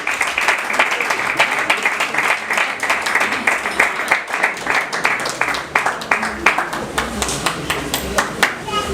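An audience applauding as names are called out at a gathering, lively clapping with distinct sharp hand claps standing out in a loose, uneven rhythm, with voices mixed in underneath.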